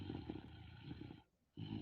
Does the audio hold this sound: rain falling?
no